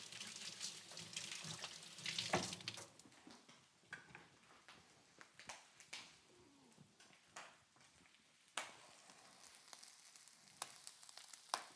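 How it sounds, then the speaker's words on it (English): Faint running tap water as hands are washed at a kitchen sink, with scattered soft clinks and splashes, quiet and close. "I'm going to wash my hands"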